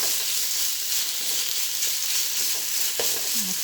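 Pork belly sizzles loudly and continuously as it is stir-fried in curry paste for a Thai young jackfruit curry, with occasional spatula scrapes against the pan.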